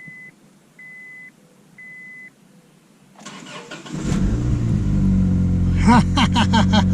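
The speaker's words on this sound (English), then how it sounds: "Let's see if she starts after basically sitting for a couple years." Turbocharged Honda Accord that has sat unused for a couple of years cranks and catches, first a few evenly spaced dashboard chimes, then the starter turning over and the engine firing into a loud, steady idle with brief revving, close by.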